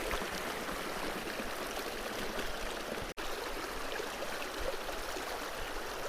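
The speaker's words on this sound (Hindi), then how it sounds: "आज गंगा जी में बाढ़ भी है" A fast, flooded Mandakini river rushes steadily past, producing a loud, continuous broadband roar of turbulent water with a single brief dropout midway and no voices.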